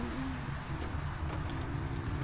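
Steady rain falls outdoors around a lawn-care job site, a continuous broadband patter with a low rumble underneath, fairly close and even throughout with no talk.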